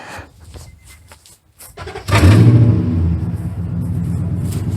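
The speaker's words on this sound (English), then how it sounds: "I'm going to start a truck" After a couple of seconds of quiet clicks, a Nissan Titan pickup truck engine cranks and catches, then settles into a steady, loud idle close by.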